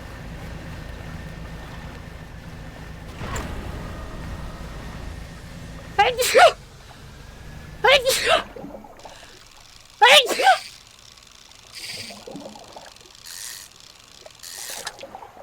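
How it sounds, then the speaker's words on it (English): A person sneezes about four times in quick succession, loud, close bursts spaced a couple of seconds apart, over a soft steady background hum, with quieter trailing sounds afterward. "that was like 4 sneezes in a row"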